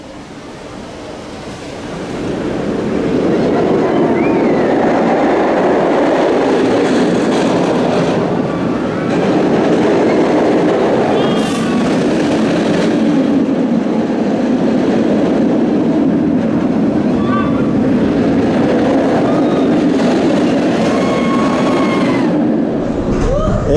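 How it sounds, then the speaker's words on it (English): Kumba roller coaster train at Busch Gardens Tampa Bay rolling out of the station, a steady loud rumbling roar of wheels on track that swells after the first couple of seconds and holds, with faint voices and chatter mixed in. "Leaving the station on the freshly repainted Kumba"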